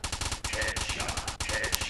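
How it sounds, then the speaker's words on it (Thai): Rapid automatic gunfire from the Stickman Gun video game fills the clip, dense repeated shots in continuous bursts with a brief gap near the middle, loud and close. "ยิงแบบรัวๆฮะ"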